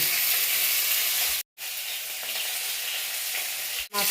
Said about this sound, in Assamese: মাছখিনি ভাজি কৰিব মানে কৰিছোঁ হৈ গৈছে